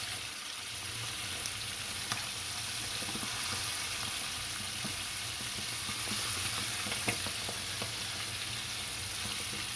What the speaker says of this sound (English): We're gonna let that fry.